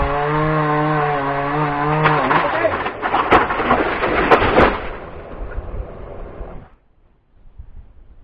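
A cut tree falls in the woods near a cabin, giving a loud cracking and crashing impact with splintering thuds over several seconds before it settles into near silence; a low hum continues underneath.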